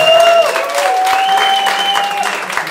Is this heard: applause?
yes